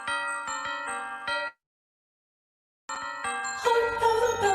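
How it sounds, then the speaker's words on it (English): Bright ringing handbells in layered, sustained tones at a winter solstice candlelight service, stopping for over a second of silence, then returning fuller with a dense wash of chiming. "ring in joy, bring in the light of the season with your bells"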